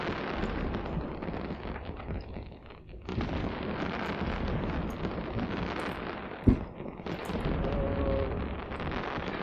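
Dense rumbling booms and crackles from fireworks going off in the space game Eve Online, a continuous wash of distant explosions with one sharp louder pop near the end.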